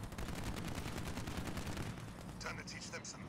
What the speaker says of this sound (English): They've actually got quite a nasty sound in um, machine gun turret. The scorpions have.